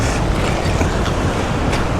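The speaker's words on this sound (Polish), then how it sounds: "O, tak sobie widzicie, fale idą takie." Wash from a passing boat rolling onto the bank of the River Thames: a loud, continuous rush of breaking water and surf noise, with no talking over it.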